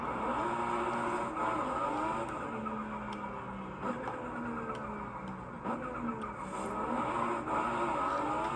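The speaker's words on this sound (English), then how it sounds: "Downshifts sound kind of cool." A Toyota Supra engine in Forza Horizon 5 revs and drops through repeated downshifts, pitch climbing then falling several times, steady and close, with no talking.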